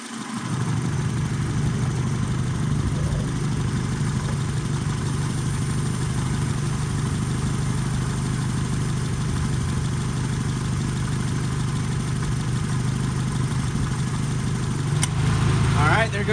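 A 1989 Honda Accord LXI engine idles with a steady low hum throughout, and near the end a slight change in tone marks the AC compressor engaging; the sound is close and continuous.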